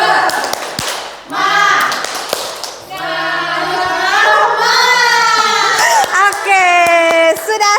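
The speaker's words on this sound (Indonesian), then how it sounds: "Kita tepuk semangat dulu ya, biar semangat, biar burn up" A vocational-school cookery class joins in a rhythmic group clapping cheer, tepuk semangat, with quick patterned claps and taps under loud chanting and singing voices that continue throughout.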